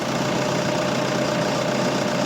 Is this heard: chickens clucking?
no